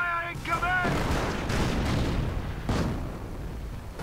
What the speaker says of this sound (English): getting counter-mortared by all the mortars